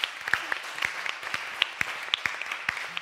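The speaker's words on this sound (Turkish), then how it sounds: "O yüzden hepinize büyük bir alkış" Modest applause from fans at a special meet-up for the Turkish series Aşk 101: scattered, fairly faint claps from a smaller group with a soft crowd murmur underneath, lasting about three seconds.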